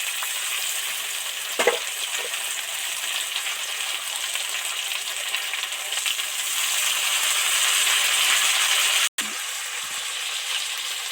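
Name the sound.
ginger and radhuni paste with spices frying in oil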